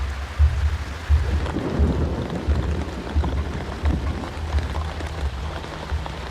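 Steady rain falls on surfaces with repeated low thunder rumbles rolling through at intervals, a wet June storm on Okinawa, continuous and fairly loud with no voices.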